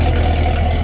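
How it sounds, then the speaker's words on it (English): A 2021 Camaro SS, whose exhaust valve is suspected to be broken, gives a brief, loud, steady idling rumble up close with a deep low drone. "Is that my valve clicking in my exhaust?"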